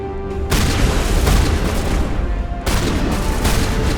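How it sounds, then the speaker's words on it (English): Gunshot sound effects in a dark Mass Effect audio drama: heavy, booming blasts that fill the stretch, with one loud burst at the start and another heavy one partway through, and no speech heard. "Shepard pulled the trigger between the metallic plates at its core."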